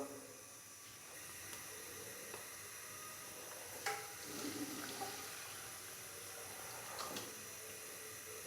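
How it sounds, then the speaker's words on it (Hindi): Tap water runs steadily at low level while a cooking pot for chicken karahi is washed, with a few faint clinks and splashes rising over the hiss. "तो बर्तन को हमने अच्छे से साफ कर लेना है।"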